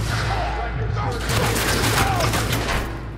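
A grenade explosion in the video game The Division, a heavy boom and crashing rumble amid a dense mix of gunfire and game ambience, with shouted voices over the action.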